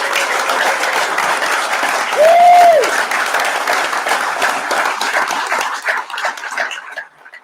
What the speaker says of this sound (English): We got to applaud the Four Horsemen